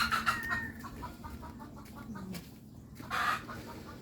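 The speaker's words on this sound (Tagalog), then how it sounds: "Ito yan ang inahin." A large mother hen, about to lay eggs, clucks in a rapid series of short, close calls, then gives a brief louder squawk near the end, with no talk.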